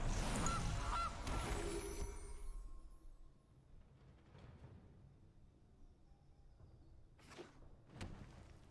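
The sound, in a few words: goose honk of Gilded Goose card, MtG Arena video game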